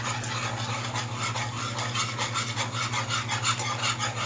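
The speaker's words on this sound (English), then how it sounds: "Just keep stirring so you get all the lumps out of it." Wire whisk stirring gravy in a pan, a close, continuous rapid scraping and swishing over a faint steady hum, with no one speaking.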